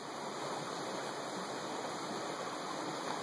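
Flowing river water, a steady, even rush and hiss of the current close by, continuous and fairly soft, with no talking.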